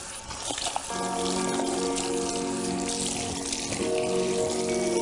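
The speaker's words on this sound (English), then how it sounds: "and that the water is actually running clear now." Tap water running during a hair colour rinse, a steady splashing gush that starts about a second in, close and continuous, with faint tonal pipe hum beneath.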